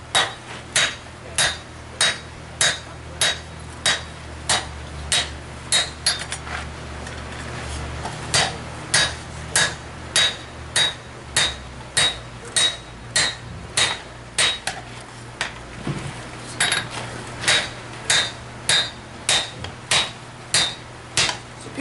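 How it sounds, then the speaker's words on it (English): Loud, evenly spaced hammer blows ringing on metal, one after another in a steady rhythm, with a brief pause midway before the strikes resume. "how many hammer blows you got into that piece?"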